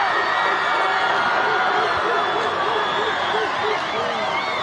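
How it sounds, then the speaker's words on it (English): Crowd on the Gainesville side cheering at a high school football game, a steady roar of voices and whoops that holds throughout, with a commentator talking over it. "Crowd going nuts over there on the Gainesville side."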